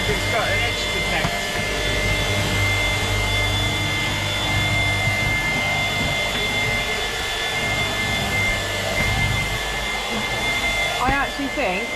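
Shark Power Detect vacuum cleaner running on boost while sucking up sand, a loud steady motor whine and airflow roar held close for the whole stretch, with faint talking underneath.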